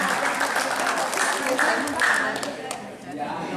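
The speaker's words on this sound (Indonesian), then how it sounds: "Tepuk tangan dong." Audience applause at a family forum discussion gathering, a steady wash of clapping with voices mixed in throughout, fairly close and even in level before easing off near the end.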